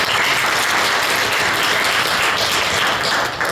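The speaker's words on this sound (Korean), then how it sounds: "하나님께 영광의 박수를 드리겠습니다." A church congregation applauds loudly and steadily in a sanctuary after a set of performances, dense, even clapping filling the whole stretch without any talk.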